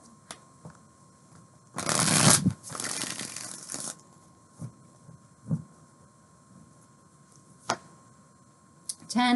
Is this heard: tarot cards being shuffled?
yes